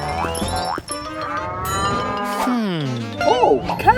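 A toy cow, being fixed and repaired, gives out a loud electronic moo that slides downward in pitch, followed by warbling, bouncy electronic tones near the end, with no talking.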